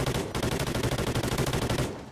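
Automatic gunfire in Call of Duty: Ghosts, a rapid, evenly spaced burst of shots lasting about two seconds, close and loud, with no pause until it cuts off.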